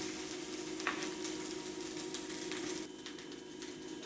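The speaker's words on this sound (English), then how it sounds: "once you have the onions in, you're going to need to mix it in" Onions frying in oil in a pan for egg fried rice, a steady dense sizzle with occasional scrapes and clicks as they are stirred, close and continuous with no talk.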